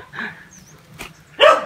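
A dog in a Lạng Sơn village lets out one sharp, close bark near the end, after a brief faint whine, with no talking.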